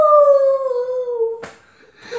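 A dog howls in one long, loud, slowly falling wail close by, then breaks off into a short yelp and a fainter whimpering cry.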